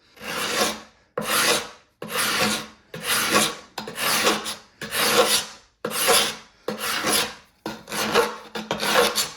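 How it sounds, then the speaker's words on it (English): A store-bought paint scraper is dragged hard across a painted surface in about nine even, rasping strokes, each separated by a brief pause, loud and close. "Let's see how our hardware store scraper will work on that."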